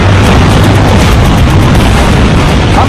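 A comet fragment from Shoemaker-Levy 9 strikes Jupiter in a huge explosion, heard as a dense, continuous roaring rumble with heavy low-end boom, loud and unbroken for the whole stretch.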